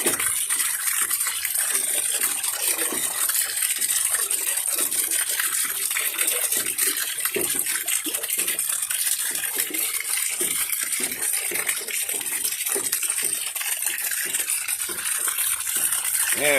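Brown, sediment-laden water drains out of a tank holding about 125 gallons, making a steady, rushing gush that continues nearly unchanged from start to finish.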